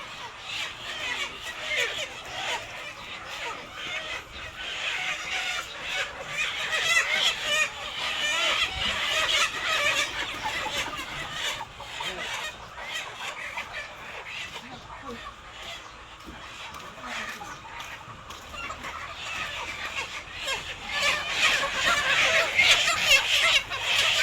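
A large flock of chickens crowds around two trucks, with dense overlapping clucking and occasional crowing at a busy, loud level, and voices talking underneath.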